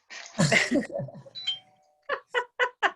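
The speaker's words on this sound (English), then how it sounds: "You hear the ding dong?" Doorbell ding-dong chime coming through a Zoom call: after a stretch of talking, four evenly spaced bright chime tones ring out clearly, one after another.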